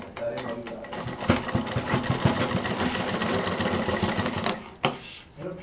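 Sewing machine stitching a zipper onto a bag, a dense rapid clatter of needle strokes running for several seconds, with a brief pause and restart near the end; a voice talks over it.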